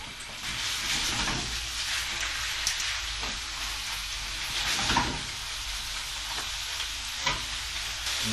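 Pieces of heart meat searing in a hot pan over medium heat, a steady loud sizzle and hiss with occasional stirring scrapes and pops.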